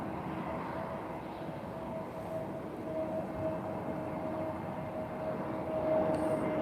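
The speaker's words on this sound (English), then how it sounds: "Flying in. Approaching landing slowly but surely." An airplane approaching to land at Lisbon Airport makes a steady, broad engine roar with a faint whine, holding fairly constant and swelling slightly near the end.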